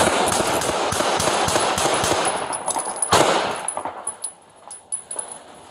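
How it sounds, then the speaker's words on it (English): A police officer fires repeated gunshots at close range at a man in a wheelchair, a loud rapid volley of cracks that thins into a few scattered, fading shots and clanks. "shots fired"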